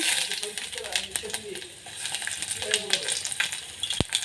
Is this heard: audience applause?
no